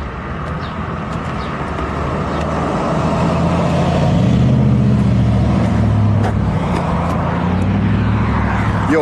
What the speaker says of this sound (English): rev your truck at me one more time